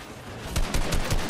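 A tactical submachine gun fires in Fortnite, a fast rattling burst of rapid shots that starts midway and continues close and loud over dense game noise.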